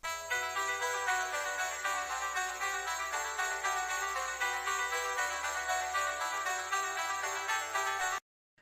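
A reworked version of a sampled music loop plays fairly quietly, with bright bell-like tones repeating in a steady rhythm over a faint low bass line, then cutting off abruptly at the end.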